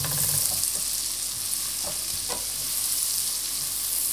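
Onions and shallots frying in a pan over heat for Cullen skink, a steady close sizzle and crackle that holds throughout, with a few faint stirring scrapes and no talk.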